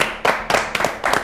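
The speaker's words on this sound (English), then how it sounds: "Let's give him a round of applause" A small group claps for a young spelling-quiz contestant in a children's studio show, brief uneven bursts of hand claps close by.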